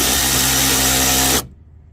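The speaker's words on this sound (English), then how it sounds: "Use a 5/16 socket to remove the coolant reservoir." A power tool spinning out a bolt with a 5/16 socket on the coolant reservoir of a 2006 Ford Mustang GT, a loud close whirring burst that cuts off abruptly after about a second and a half.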